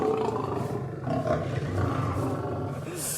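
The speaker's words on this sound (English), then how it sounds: "Half-ton lion, big teeth, big claws, how are you going to do it?" A half-ton lion roars loudly and close in a sustained, rumbling bellow over the full clip, with a faint voice briefly audible beneath it.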